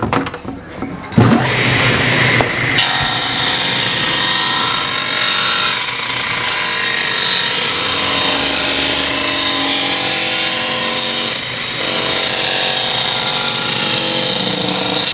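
A power saw runs loud and continuously, cutting wooden pieces for a handmade wooden bicycle in a workshop, with a brief start-up before the sustained whine.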